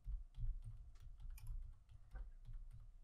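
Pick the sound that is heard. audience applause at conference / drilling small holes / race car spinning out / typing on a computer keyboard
typing on a computer keyboard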